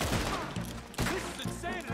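Gunfire in the modded Red Dead Redemption 2 game, a few sharp shots in quick succession among noisy in-game sound and faint voices, fairly quiet overall.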